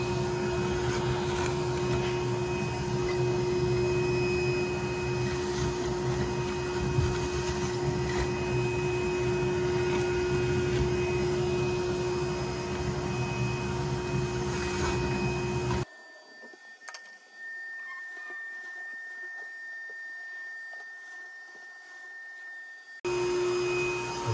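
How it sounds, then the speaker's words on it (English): A vacuum cleaner drones loudly and steadily as it sucks bees out of a bathroom wall, cuts off for several seconds of near silence, then starts up again. "So I'm just going to vacuum everything up."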